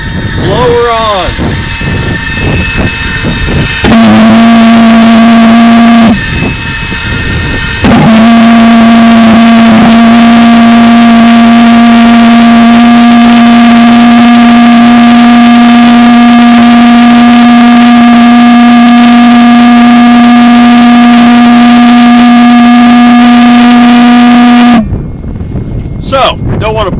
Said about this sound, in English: Valveless pulse jets run very well.